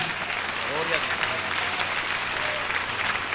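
A crowd claps in sustained, dense applause, a steady wash of hand claps with voices faintly mixed in.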